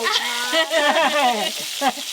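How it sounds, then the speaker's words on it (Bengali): River fish (bhola and khoyra) sizzle and crackle steadily in hot oil, a loud continuous frying hiss with some bubbling variation. "এই মাছগুলো ভাজা হয়ে গেল"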